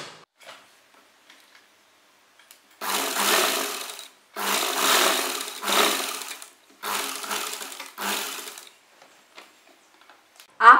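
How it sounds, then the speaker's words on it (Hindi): A sewing machine runs in several bursts of a few seconds each, stitching along the very edge of a canvas neck piece, loud and close with rapid mechanical rattling separated by quiet pauses. "अब हम एकदम किनारे कैनवास के को थोड़ा सा पकड़ते हुए सिलाई लगाएंगे।"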